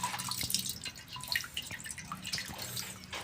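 Fuel mixed with water drains from the removed water separator of a 2011 Ford Ranger Wildtrak 2.5L, dripping and trickling in an irregular patter of close drops with a steady liquid wash beneath and no talk.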